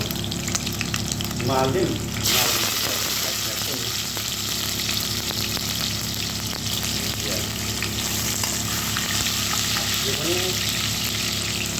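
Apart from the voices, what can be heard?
onions being stirred and fried in a pan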